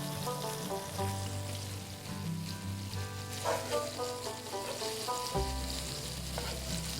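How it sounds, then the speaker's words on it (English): Stew meat browning in a hot pan for mushroom gravy, a constant close sizzle with stirring and scraping as pieces are flipped, a low background hum underneath, no voices. "So we're just going to get these flipped over now and brown that other side."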